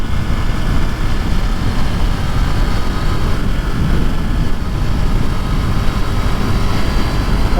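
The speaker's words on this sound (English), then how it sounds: "this does sound good, the inline twin, but it is definitely no inline 4" A KTM 890 Duke's inline twin engine while riding, a loud, steady, unbroken drone mixed with rushing wind noise and no voices.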